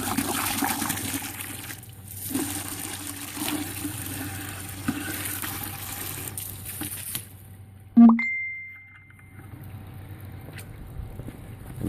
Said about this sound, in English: I'm just going to rinse this out.